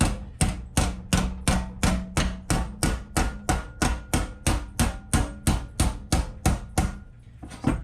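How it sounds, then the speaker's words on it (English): A hammer beats steady, evenly spaced blows on sheet metal held in a vise, folding it over. Close, loud metallic strikes land about 2.5 per second, roughly nineteen in all, with no talk. "take my hammer and just beat on it"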